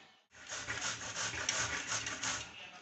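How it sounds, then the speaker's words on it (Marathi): Peeled, washed carrots are grated on a hand grater, a continuous close rasping scrape that starts after a brief pause and keeps a rough, even rhythm. "गाजर मस्त स्वच्छ धुवून सोलून घ्यायचे असे आणि किसणीवर किसून घ्यायचे।"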